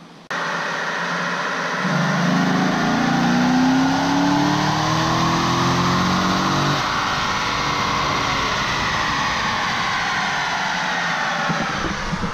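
A truck engine revs hard on a dynamometer and climbs steadily in pitch during a sustained pull, loud and close, then holds at a high roar to the end.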